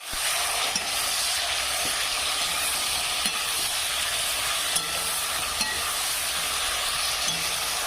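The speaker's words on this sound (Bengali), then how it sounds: "মশলাটা দিয়ে দিয়েছি, এবার ফের ভালো করে কষবো" Spice paste sizzles steadily in a hot pan with fish for a taro and fish curry, a loud continuous crackle with faint scrapes of stirring throughout and no voices.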